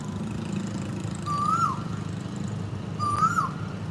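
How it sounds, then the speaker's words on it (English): A bird calls twice from a tree in Chatuchak Park in Bangkok, each a short rising-then-falling whistled note about two seconds apart, clear over a steady low hum of distant traffic. "I think it's a bird actually, because right just after those caws, I heard like a bird sound."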